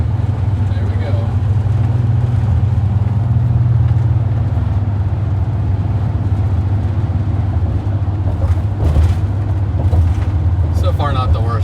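Steady car road noise with a low engine drone throughout a drive toward Columbus on a Pennsylvania-to-Arizona road trip, over roads bumpy like a roller coaster; loud and continuous cabin rumble with faint talk near the end.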